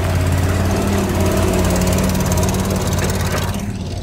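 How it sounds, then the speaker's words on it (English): A small skid steer's engine runs loud and close in a snowy yard, a continuous rough mechanical drone with a steady hum that dips slightly at the very end. "That little skid steer right there, that works pretty snazzy."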